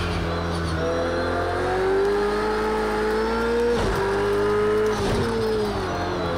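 GT3 race car engine at the Nürburgring in Project Cars 2, a loud, steady high-revving drone that holds and climbs gradually, with brief dips around shifts, heard close and alone.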